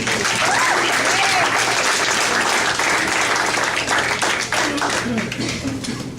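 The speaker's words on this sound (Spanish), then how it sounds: "Den un aplauso a Jesús." Applause rises from a church congregation during a Spanish-language sermon, a loud, dense clapping that fills the space and slowly thins out by the end.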